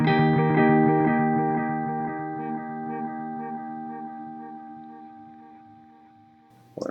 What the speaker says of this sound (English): We're going to throw in a digital delay